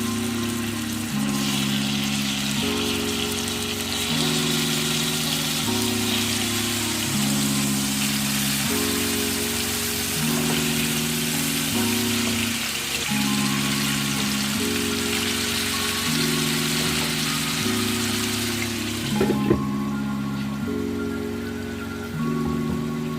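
Chicken shashlik ingredients sizzle in hot oil, a constant bright crackling hiss that runs the whole time beneath a looping background melody, easing slightly near the end.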